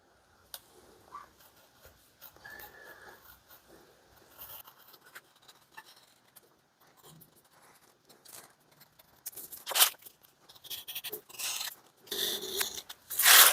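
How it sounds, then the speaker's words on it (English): A fresh blade cuts through leather for an axe mask, giving soft, intermittent scraping and slicing strokes up close that grow louder and sharper toward the end. "Having a fresh blade helps cut your leather and keep the edges clean."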